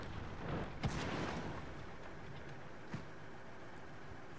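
Tank cannon fire in a tank video game, from a T-34-85M: two muffled booming shots a couple of seconds apart over a constant low engine rumble, with no talking.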